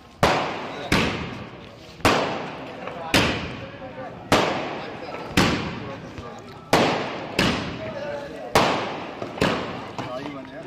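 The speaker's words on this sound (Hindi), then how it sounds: "मिश्रा जी को कैबिनेट मंत्री बनाए जाने पर डबरा गृह निवास पर भाजपा कार्यकर्ताओं ने आतिशबाजी और मिठाइयां भी बांटी" Fireworks and firecrackers set off by party workers at a home celebration in Dabra, with nine sharp loud bangs spaced about a second apart, each followed by a crackling decay.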